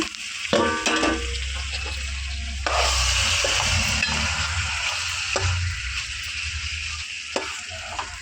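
Pieces of country chicken sizzling with onions in a hot pan, a steady loud frying hiss running throughout, broken by a few sharp clacks of a utensil stirring the pieces, close up.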